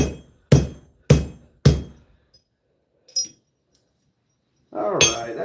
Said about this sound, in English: We're just going to go ahead and hammer this down.